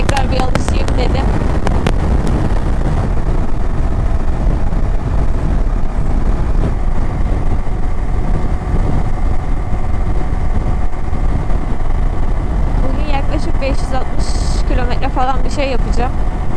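A motorcycle with about 5000 km on it runs steadily while riding, its engine drone mixed with heavy wind rush on the microphone, continuous and close throughout.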